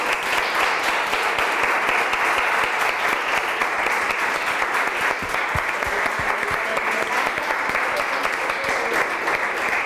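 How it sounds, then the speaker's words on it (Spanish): A room full of people at a summer course on international reporting applauds the university technicians, steady, even clapping from many hands that holds at the same level for the whole stretch. "Creo que se merecen un fuerte aplauso los técnicos de la Universidad de Calatrava."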